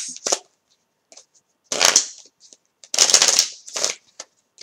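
Close, loud bursts of tarot playing cards being riffled and shuffled come in irregular bunches separated by short silences.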